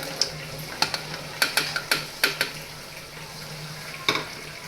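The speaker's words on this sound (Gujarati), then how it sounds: "હવે આપણે તેમાં આપણી દૂધી નાખી દઈશું" Chopped bottle gourd goes into a pan with tomato, followed by a run of sharp spoon-on-pan clicks and scrapes over a low sizzle.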